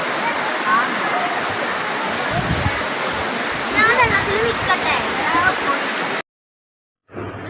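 A flowing stream rushes steadily and loudly close by, a continuous broadband wash of water with occasional splashes, while people, including a child, talk over it before it cuts off briefly.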